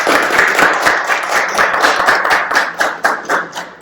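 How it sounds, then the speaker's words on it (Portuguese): A lecture audience gives a visiting professor a lively round of applause, dense and close clapping that holds steady before thinning into scattered claps at the end. "Gostaria que vocês o recebessem com uma salva de palmas"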